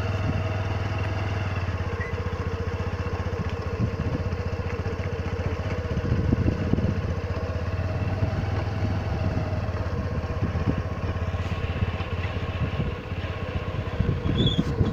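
Continuous motorcycle engine drone throughout, a steady low rumble with road noise as the bike rides along; no talking.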